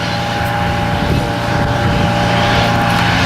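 A Boeing 787 airliner in ANA livery during a Future of Flight tour, its engines giving a steady, loud broadband roar with a sustained hum throughout, heard outdoors without voices.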